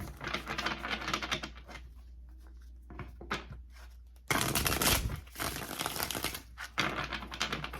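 Tarot cards handled and shuffled close by, with dense rapid riffling and clicking bursts, pauses, then a louder stretch of flapping and shuffling cards, alone with no talking.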